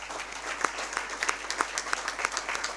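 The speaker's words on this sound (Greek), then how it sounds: "ένα μεγάλο χειροκρότημα στο Σταύρο" An audience claps steadily at a general assembly of driving schools in West Attica, producing a dense, continuous patter of applause from a crowd in an indoor hall.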